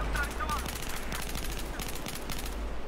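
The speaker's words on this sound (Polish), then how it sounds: "P90 i strzał z biodra z tejże broni" Rapid hip-fire bursts from a P90 submachine gun in the video game Battlefield 4, a dense rattle of shots over busy in-game battle noise, with a voice speaking over parts of it.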